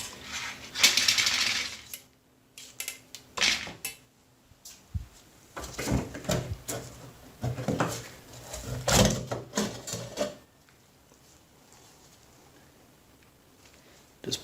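Bathroom exhaust fan motor housing pulled out of its fitting, close-up scraping, rattling and clunking of the metal and plastic parts in uneven bursts, separated by quiet gaps.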